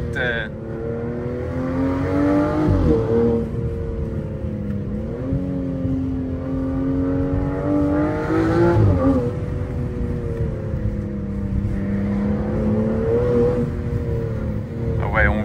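A Ferrari engine accelerates hard in two or three long pulls, each rising in pitch before a brief shift, heard from inside the car as a loud, steady mechanical roar.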